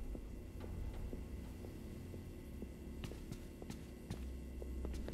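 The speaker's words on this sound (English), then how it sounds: "I hear footsteps!" Footsteps sound in Five Nights at Freddy's: Security Breach, a series of soft, evenly spaced thuds over a low steady hum, faint and somewhat distant.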